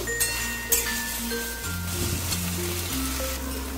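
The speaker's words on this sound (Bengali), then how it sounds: "এবার হাই ফ্লেমে আমি আর 2 মিনিটের মতন একটু নাড়াচাড়া করে নেব।" Taro leaves (kochu shak) fry on a high flame, a soft continuous sizzle and hiss with faint stirring beneath a steady tonal musical background.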